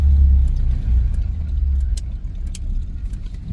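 A Duramax diesel pickup fitted with an MBRP 5-inch exhaust kit idles and rumbles with a deep, steady low exhaust drone, close by and alone without talk.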